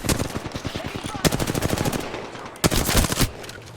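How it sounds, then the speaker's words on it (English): Rapid automatic gunfire from the Apex Legends video game, loud and close, with dense bursts of shots running through most of the stretch and sharper heavy blasts near the middle and end. "Opening fire on the enemy."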